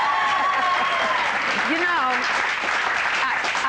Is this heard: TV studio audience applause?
yes